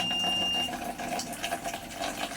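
Water runs steadily from the controller valve of a coin-operated bucket water vending machine, a close, continuous gurgling rush with a faint electronic tone at the start.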